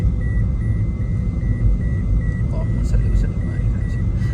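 Engine and tyre rumble from a vehicle climbing a rough mountain road out of Chitral toward Shandur, trailing an old 4x4 Toyota Prado; a steady low drone fills the whole stretch with faint beeps and light rattles on top.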